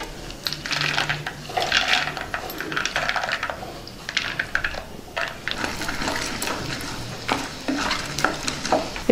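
Peanuts go into hot oil with tempering spices in a pan, crackling and sizzling with scattered sharp pops and occasional stirring scrapes, close and moderately loud with no talking.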